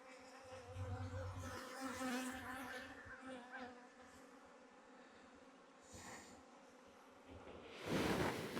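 Steady buzzing from many honey bees close by at a hive in winter, a dense continuous drone with occasional louder bursts and rustles.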